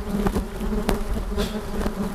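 Flies and other insects buzz steadily close around hikers on a coastal trail, a continuous droning hum that swells as they pass near, with no talking.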